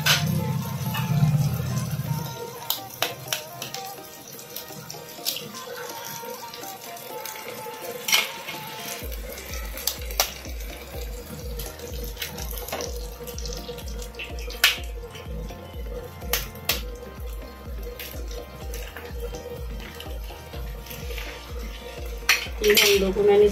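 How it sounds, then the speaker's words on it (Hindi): Eggs cracked into fried masala in a pan, heard as scattered sharp taps and clinks of shell and utensils against cookware, with a low rhythmic hum underneath, close and without talk. "अब इसमें मैं डालूंगी अंडे जो मैंने रखे हुए हैं।"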